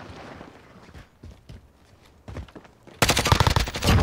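Gunfire in the Warzone video game: scattered shots in the first three seconds, then a loud, dense burst of rapid automatic fire fills the final second.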